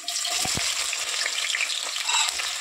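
Onions hit hot oil for a Telangana-style broiler chicken curry, giving a loud, steady sizzle and crackle with a few stirring knocks near the start.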